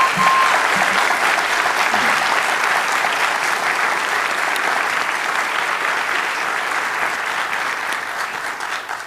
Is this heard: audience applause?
yes